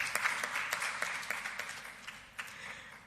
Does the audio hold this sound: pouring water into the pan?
no